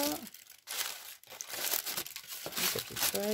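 Close, busy crinkling of thin tissue paper, rustling continuously with soft tearing sounds and a voice talking over it.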